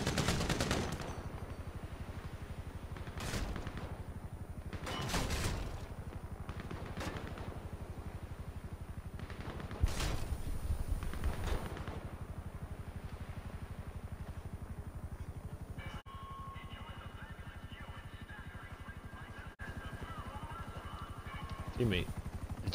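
Gunfire in the video game GTA 5, on a pier with a roller coaster, comes as several sharp, loud bursts and rapid volleys in the first half, with someone talking over much of the clip.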